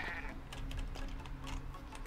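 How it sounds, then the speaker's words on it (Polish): A goat in Minecraft gives a wavering bleat that sounds close and clear over a low ambient hum, with no voices. "Są kozy?"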